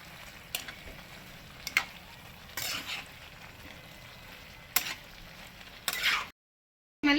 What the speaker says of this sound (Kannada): ಇದನ್ನೆಲ್ಲ ಚೆನ್ನಾಗಿ ಆಯಿಲ್ ಬಿಡೋವರೆಗೂ ಫ್ರೈ ಮಾಡ್ಕೊಂಡಿರಿ